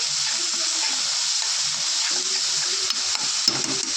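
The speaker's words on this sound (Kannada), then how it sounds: "ಇದು ಫ್ರೈ ಆಗುತ್ತೆ ಒಂದೆರಡು ನಿಮಿಷ ಚೆನ್ನಾಗಿ ಫ್ರೈ ಆಗಬೇಕು" Potatoes sizzle in a hot pan with salt and turmeric, a steady loud hiss of frying with faint scraping stirs underneath, continuous throughout without talk.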